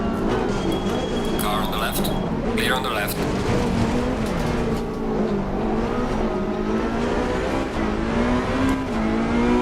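Race car engines roar continuously in the racing game Assetto Corsa Competizione, several cars close together with rising and falling revs, while a voice speaks over the steady engine noise.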